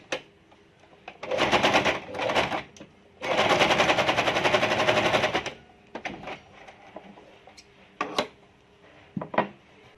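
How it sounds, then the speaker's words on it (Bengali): A sewing machine stitches a homemade cloth face mask with elastic attached, running in two loud, sustained bursts with a shorter third burst, separated by quieter clicks and handling taps of fabric. "এই অংশটি আমি সেলাই দিয়ে আটকে দিচ্ছি।"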